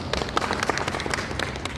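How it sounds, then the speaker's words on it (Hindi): An audience at an RCM products marketing meeting claps in a brief, dense burst of applause, many hands at once, fairly loud and steady. "ताली बजा सकते हैं एक बार।"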